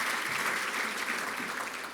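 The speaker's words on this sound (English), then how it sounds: "Give them another hand." An audience applauds sponsors at an awards show, a dense, even wash of clapping from many hands that holds steady for the full two seconds, slightly fading at the end.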